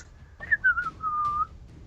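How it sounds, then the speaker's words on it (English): Someone gives a short, faint whistle at close range, a few quick wavering notes that slide into one held tone lasting about a second, with no talking. "Was that a whistle of confirmation?"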